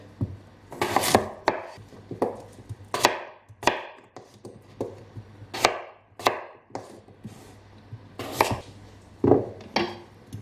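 A knife chops potatoes into large inch-sized chunks on a board, about a dozen crisp, close, separate strikes at an uneven pace with short pauses between them.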